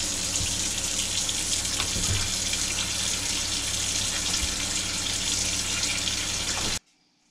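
Tap water runs steadily and loudly into a sink filling for an ice bath to cool a five-gallon pale ale homebrew, a constant rushing splash that cuts off abruptly near the end, with no talking.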